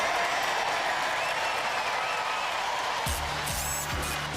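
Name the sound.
Robot Wars studio audience applause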